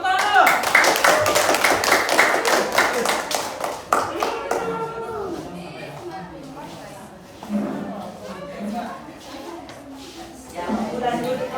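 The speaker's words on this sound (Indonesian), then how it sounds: "Antum sekali tepuk tangan dulu." A school class claps for a group's presentation: dense, rapid hand claps for about four seconds, then they fade out as people start talking in the room.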